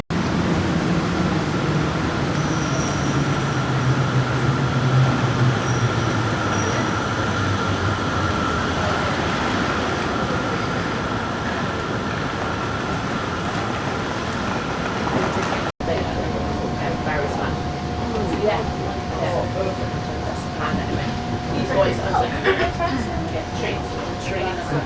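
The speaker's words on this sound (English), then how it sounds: "So the next train will be on this platform in front of me." A metro train rumbles steadily and loudly into a station, with a sustained drone and people talking underneath, then a squealing tone after a sudden cut.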